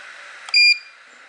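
A single short electronic beep from a Longer RAY5 laser engraver, clear and fairly loud, rising briefly over a faint steady hiss in a quiet room.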